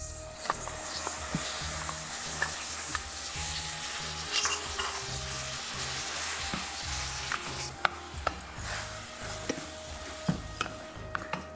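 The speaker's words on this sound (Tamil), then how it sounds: "கொஞ்சம் நன்னா இந்த தக்காளி நன்னா வேகணும். இப்போ நன்னா வதகணும்." Chopped sour tomatoes sauté in a hot pan over high heat for a North Indian soya subji, with a steady close sizzle and repeated scraping stirs throughout.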